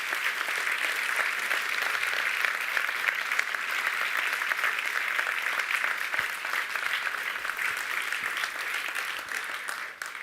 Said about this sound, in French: Vous pouvez encore les applaudir